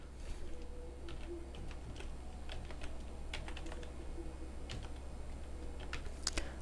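Text being typed on a computer keyboard, a run of light, irregular key clicks over a low steady hum, quiet and close with no speech.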